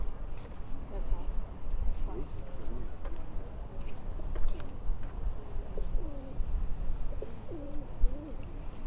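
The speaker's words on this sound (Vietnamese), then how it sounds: "Ngoài nó có cái gọi là mấy con chim ở đậu trên cái nhà đó để lính họ quan sát." Pigeons perched on a building in St. Augustine, Florida, coo softly in low, repeated rolling phrases beneath a person talking, amid steady outdoor street noise.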